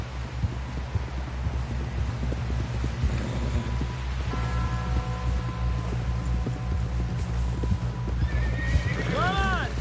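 A horse in a video game neighs and whinnies repeatedly over a steady rumble of galloping hooves, with characters talking urgently throughout and a final loud whinny near the end.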